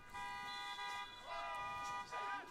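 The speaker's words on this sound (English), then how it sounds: "as a car alarm has gone off" A car alarm sounding in a parking lot beside a men's soccer match, a steady repeating electronic tone in bursts, fairly faint and distant.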